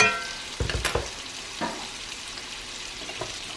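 Green beans seasoned with salt and Cajun seasoning are stirred in a hot pan. A few scraping clatters land early, then quieter scrapes over a soft background sizzle, with no talking.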